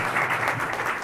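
An audience at a business innovation forum in a hotel ballroom applauds a European affairs committee chairman; a brief, dense wash of steady clapping with no voices over it.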